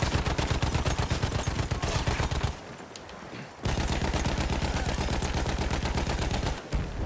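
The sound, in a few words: anti-aircraft gunfire in Battlefield 1 video game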